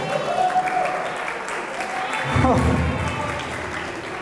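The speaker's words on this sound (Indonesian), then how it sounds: "Tepuk tangan untuk yang benar." An audience bursts into applause at a religious talk after a correct quiz answer, with a brief voice at the start and a swell of clapping mid-clip that stays moderately loud to the end.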